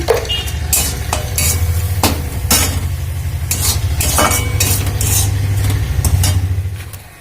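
Spices, fried green plantain and egg being stirred in a pan on the stove, a steady close sizzle with repeated scraping clinks of a utensil against the pan throughout, no talking.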